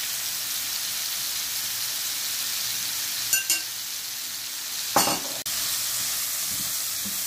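Mushrooms sauté in meatball fat in a pan, giving a steady, even sizzle that is broken by a couple of sharp stirring clinks.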